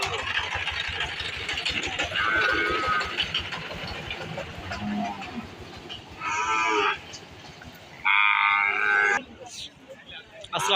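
Cattle at a rural cattle market in Tangail moo loudly and close, with two long lowing calls cutting through a busy outdoor background where people talk.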